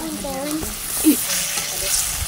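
Jengkol beans frying in hot oil in a pan while cooking Sundanese nasi liwet, a soft steady sizzle with a brief louder spatter partway through, close by.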